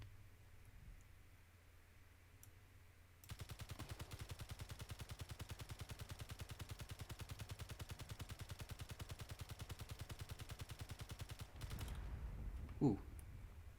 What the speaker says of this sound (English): They're shooting again? Yeah, they're shooting.